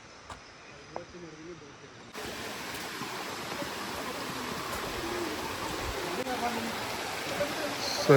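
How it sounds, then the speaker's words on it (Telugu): Mountain stream flowing on a monsoon trek trail to Kudremukh Peak, a steady broadband rush of water that grows louder partway through after a quieter start, with faint rustling. "సో ఇంకొక వాటర్ ఫ్లో అయితే వినిపిస్తుంది"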